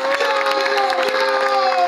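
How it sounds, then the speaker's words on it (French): Audience of business partners at a presentation event clapping and cheering together, a loud, sustained burst of applause with shouts layered over it. "Est-ce que les partenaires peuvent applaudir pour ça?"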